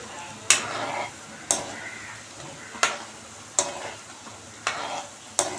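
Onion bondas deep frying in oil under a low steady sizzle, punctuated by regular sharp clacks of a slotted spoon hitting the pan about once a second, close by, with no talking.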